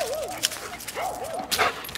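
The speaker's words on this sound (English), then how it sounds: "I have spotted the dog." A dog at a horse barn whimpers in rising and falling whines with a short yip, fairly close and moderately quiet, with no talking over it.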